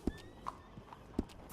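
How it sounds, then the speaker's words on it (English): Horse hooves clip-clop in Red Dead Redemption 2, two heavy close hoof strikes about a second apart, with a soft whinny-like tone between them and faint game ambience. "That's a good horse."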